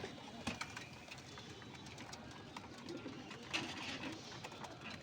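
Pigeons coo in a loft with nesting pairs and chicks, soft repeated cooing over a quiet background with a few faint knocks and rustles.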